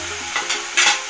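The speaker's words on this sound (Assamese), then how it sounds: "এইটো অলপ দেৰি লৰাই থাকিম।" Tomato and ginger stirred in a hot pan while cooking palak paneer, soft sizzling with a couple of brief scraping strokes from the spoon, close and alone.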